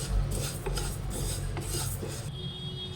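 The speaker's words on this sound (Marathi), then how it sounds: "तिळ आपल्याला मंद आच्यावर छान चार पाच मिनिट भाजून घ्यायची आहे" Sesame seeds dry-roasting in a pan over low to medium heat, a soft, steady rasping and scraping as they are stirred, with faint intermittent rustles over a low hum.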